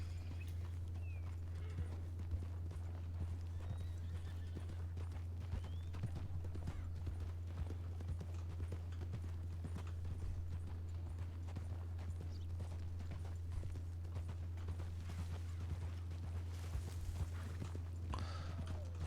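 Kentucky horse hooves clip-clopping in a video game, a steady walking rhythm of soft hoof falls over a constant low hum, faint and even throughout.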